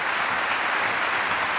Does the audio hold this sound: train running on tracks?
no